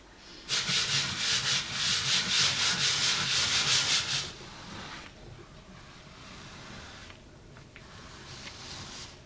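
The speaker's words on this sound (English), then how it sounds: "So I've got my trusty Black & Decker wireless sander." A Black & Decker cordless sander with 60 grit sandpaper buzzes and rasps loudly at close range for about four seconds in a pulsing rhythm, then stops, leaving quiet background noise.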